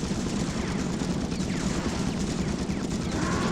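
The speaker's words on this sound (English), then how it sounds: "So what you're supposed to do is shoot these, blow them up" Rapid gunfire in the video game The Thing as enemies are shot, a dense continuous burst of shots and blasts that stays loud throughout without a pause.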